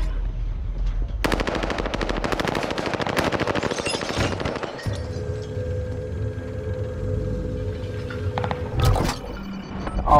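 Rapid automatic gunfire bursts in a video game, loud and sustained for several seconds, then giving way to a lower engine-like drone with a few scattered shots and clatter.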